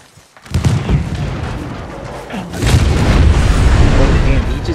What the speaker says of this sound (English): Did he just dynamite that guy out of there?